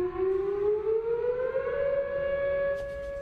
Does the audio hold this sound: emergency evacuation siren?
yes